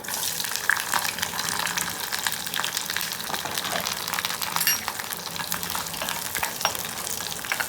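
Onion, garlic and curry leaves sauté in oil with popped mustard seeds and fenugreek for vatha kulambu, a loud, dense, hissing sizzle that runs steadily throughout without speech.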